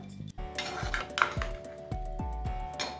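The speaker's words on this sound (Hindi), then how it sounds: "जस्ट 2 से 3 मिनट हाई फ्लेम पर इसे कुक करेंगे।" Chicken white karahi cooks in a pan on high flame, with a spoon repeatedly scraping and clanking against the metal pan in a steady rhythm over a soft sizzle, close and fairly loud.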